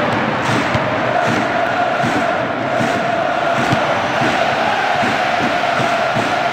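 Football stadium crowd in a PES match, a loud, dense, continuous roar of massed voices with swelling chants, close and unbroken throughout.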